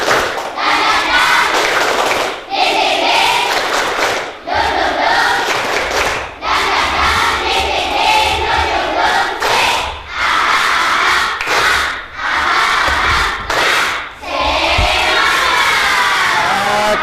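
A class of primary school children shouts and claps together in a loud, rhythmic spirit chant, with bursts of voices and handclaps repeating in short phrases.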